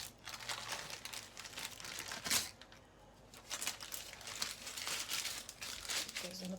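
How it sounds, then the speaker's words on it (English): Baking paper is peeled off a freshly baked, steaming seed and nut loaf, giving quiet crinkling and tearing rustles in several bursts, close up and soft. "Peel off the paper."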